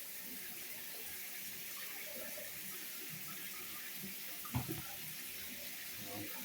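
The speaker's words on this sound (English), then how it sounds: "Shower head works good though." A shower head runs in a rental unit's bathroom, a steady hiss of spraying water throughout, with one brief knock partway in.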